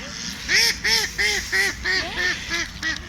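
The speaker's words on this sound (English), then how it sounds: "Geese overhead, so I'm going to come down" A string of about eight honking calls, evenly spaced and fairly loud, from geese passing overhead.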